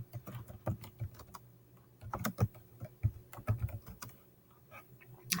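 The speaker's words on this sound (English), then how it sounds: "So I'm going to type in the name." Computer keyboard typing in quick irregular bursts of clicky keystrokes, close and fairly quiet, with short pauses between runs and no talking.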